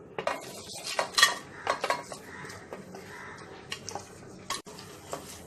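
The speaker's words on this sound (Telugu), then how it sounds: "ఆయిల్ కొంచెం వేడైన తర్వాత హోల్ గరం మసాలా వేసుకొని వేయించుకుందాం." Whole garam masala going into hot oil in a kadai: light sizzling with clinking and scraping of a metal utensil against the pan, irregular taps and stirs close by, fairly quiet, no talking.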